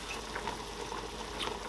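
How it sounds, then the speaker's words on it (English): Water simmers and bubbles in a covered pot of Nigerian oha soup with achi and ogiri, a steady dense burble with small pops, close and continuous. "So I'm going to add water, and I'll cover it to keep boiling."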